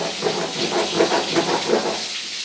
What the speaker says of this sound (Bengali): তো এখানে মাছ ভাজাটা হচ্ছে